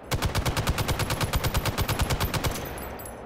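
M60 E4 machine gun hip-fired in the VR game Hot Dogs, Horseshoes & Hand Grenades: a long, rapid, evenly spaced burst of loud shots rattling nonstop, then a quick fade.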